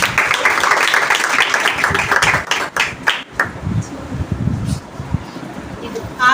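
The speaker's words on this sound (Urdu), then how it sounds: "تالیاں بجائیں گے" A congregation at a Friday prayer meeting claps hard in a loud, dense burst that thins into scattered claps and fades after about three seconds, with a voice speaking over the tail.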